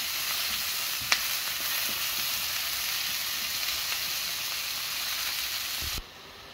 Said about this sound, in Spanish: Aquí vamos a sofreír el tomate. El tomate junto con la cebolla y el ajo.